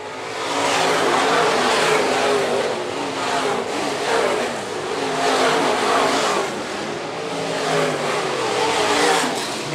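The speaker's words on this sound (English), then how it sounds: "Bo Spiker just ran the quickest lap of the night for the modifieds." Modified race cars roaring around a dirt raceway during a main event, engines revving and rising in waves as the cars pass, loud and continuous.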